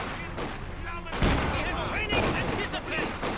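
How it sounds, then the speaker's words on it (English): Massed rifle and machine-gun fire from a real-time strategy battle as infantry squads focus on a sniper, a dense crackling volley with scattered explosions and a caster talking over it. "a big volley on that sniper almost killed it"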